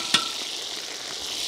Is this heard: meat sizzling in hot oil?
yes